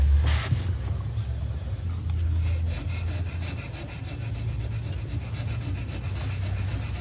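A hand scraper shaves stain off a spot on a wood floor down to bare wood, giving repeated close rasping strokes with a brief sharp scrape at the start.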